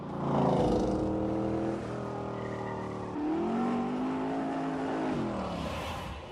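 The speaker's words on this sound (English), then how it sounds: "It had an all-aluminium 7-litre V8, producing 550 horsepower" Revving of a De Tomaso Pantera with an all-aluminium 7-litre V8 making 550 horsepower in a driving video game, loud rising and falling engine pitch sweeps repeating several times, close and alone.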